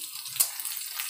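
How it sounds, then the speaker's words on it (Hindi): Cashews being lightly fried in masala in a pan for lauki sabji, a soft, steady close sizzle and hiss with a brief louder crackle of stirring. "काजू को भी हल्के से भून लेंगे"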